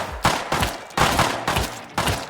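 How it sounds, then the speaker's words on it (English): Rapid gunshots in the survival video game Rust, loud close bursts firing in quick succession, roughly four or five sharp cracks with rumbling tails spaced about half a second apart. "First shot from HH."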